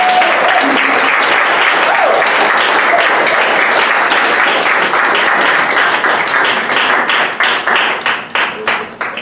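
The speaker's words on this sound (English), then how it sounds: "Please put your hands together and give a warm round of applause" Banquet audience applauding a winning coach: dense, sustained clapping from a crowd, loud and close, thinning into scattered claps near the end.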